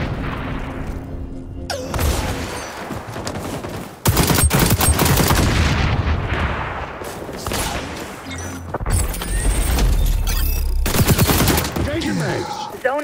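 AK47 fire in the shooter game XDefiant comes as rapid automatic bursts, loud and close, mixed with booms and crashes and broken by short pauses, with game voice callouts at points.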